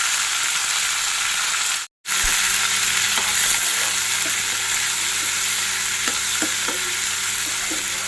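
Cashews and black raisins frying in hot ghee for sheer khurma, a dense continuous sizzle close up with faint stirring taps, briefly cut out near the start, no talk.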